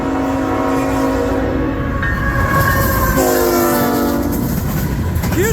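CN freight train Q118 led by locomotive 3092 passing at Ladysmith, with loud sustained horn blasts over rumbling wheels and rail clatter, close by and continuous.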